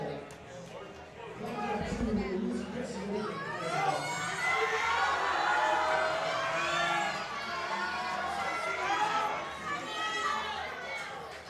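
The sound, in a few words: crowd cheering in support of a lifter at a powerlifting meet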